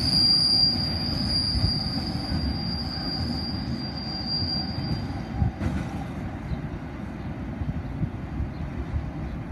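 A freight train rolls steadily past up close in Australia, near the line to Port Kembla, its wagons producing a continuous heavy rumble with a faint high wheel squeal running through most of the pass.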